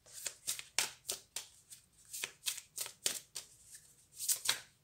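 Playing cards shuffled and handled during a tarot-style card reading, a quick run of crisp riffling and flicking bursts up close with no speech.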